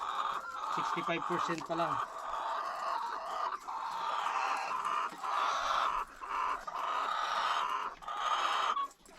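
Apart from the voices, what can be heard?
chickens clucking on a small farm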